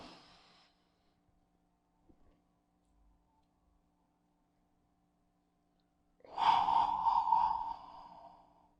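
During a slow deep-breathing exercise for anxiety, a brief breath at the start is followed by several seconds of near silence as the breath is held, then one long audible sighing exhale, close and fairly loud, tapering off over about two seconds.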